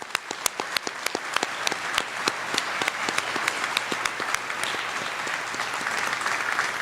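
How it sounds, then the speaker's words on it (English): Applause at a university commencement ceremony, with many individual close claps snapping sharply over a broader crowd of clapping that holds steady throughout. "So let's give a round of applause for everyone who got us here."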